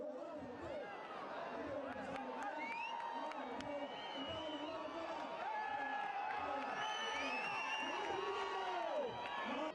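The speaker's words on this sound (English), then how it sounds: "the spectators filled the atmosphere with whistles and cheer" A distant outdoor crowd of jallikattu bull-taming spectators cheers and whoops, with sharp whistles rising above the steady din of many voices.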